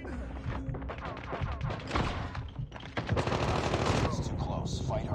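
Rapid gunfire from the Setor D13 secondary weapon in the mobile shooter Call of Duty Mobile, dense bursts of shots and impacts running continuously and loudly throughout a multiplayer match.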